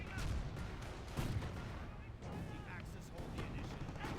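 Dull booms and rumbling blasts from a grenade explosion amid a video game battle, layered with scattered gunfire and continuous battle noise, fairly faint and distant-sounding, with a voice talking over it.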